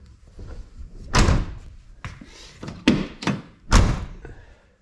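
The door of an old Oldsmobile, wrecked and left for 26 years, is shut several times in a row: a string of about five solid slams and thunks with short gaps between them, close and loud.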